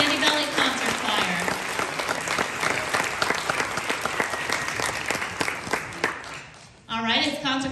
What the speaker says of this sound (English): more round of applause